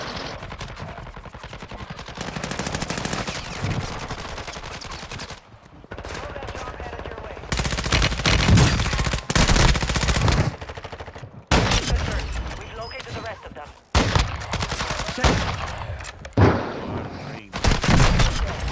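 Sniper rifle fire from a video game booms out in repeated loud, sharp cracks, broken by short pauses, with a voice talking now and then between the shots.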